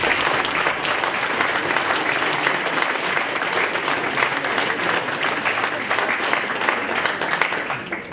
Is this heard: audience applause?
yes